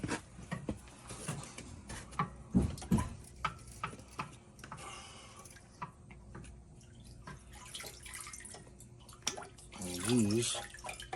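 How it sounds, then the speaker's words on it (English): Water splashes and runs over freshly cleaned old-school GT bicycle wheels during a rinse, an uneven spray with drips and taps, with a brief voice partway through. "water rinse."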